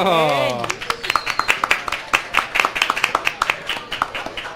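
Audience applause at a talk on animal attacks and defenses in nature, heard as a steady run of distinct hand claps that follows a brief burst of talk at the start.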